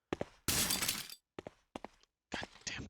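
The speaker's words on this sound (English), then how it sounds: "That breaking glass over there is dogs." Glass shattering as zombie dogs attack in Resident Evil, a loud crash followed by several short breaking and thudding bursts separated by silence.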